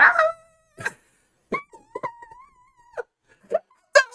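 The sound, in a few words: person imitating a dog noise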